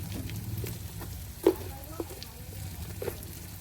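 Turmeric, chili and cumin powder frying in a pan, a soft continuous sizzle with a few brief stirring clicks and knocks, quiet and close, no voices.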